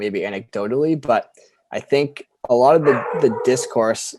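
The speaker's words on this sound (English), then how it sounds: "apologies if you can hear my puppy in the background" A pet puppy barks faintly in the background of an indoor home setting, under continuous close-up conversational speech.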